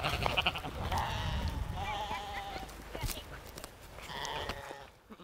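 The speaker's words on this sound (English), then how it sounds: "This is kind of an old-fashioned Norwegian kind of sheep." An old-fashioned Norwegian breed of sheep bleats a few times on a homestead, the wavering calls moderately near and fairly quiet amid rustling and background talk.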